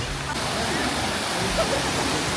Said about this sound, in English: Got a couple small water slides, some really cool waterfall features.